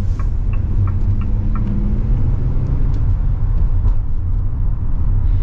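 2024 Ram ProMaster cargo van with a V6 engine and 9-speed automatic driving along, a steady low engine hum and road rumble heard from inside the cabin, with faint ticks and rattles.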